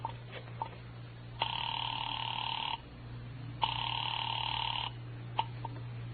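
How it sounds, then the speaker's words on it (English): An old telephone on a radio drama line: a few faint dialing clicks, then two long ringback tones with a pause between, over a steady low hum. "I dialed Bradshaw 711 and waited."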